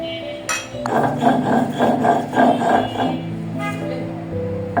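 Thankuni leaves are crushed on a traditional stone slab (pata) with a stone roller for a Bengali bhorta. Close, rhythmic knocks and gritty scrapes repeat in a steady back-and-forth pattern, with no talking.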